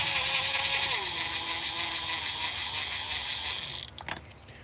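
A ratchet turns slowly, tightening bolts on a modified 440 engine, giving a steady run of fine clicking that fades out near the end, close and fairly quiet.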